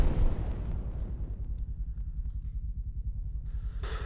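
A heavy, booming rocket launcher backblast (SMAW) in the video game Arma 3 rolls into a long, low rumble that slowly fades, with a burst of hiss at the very end.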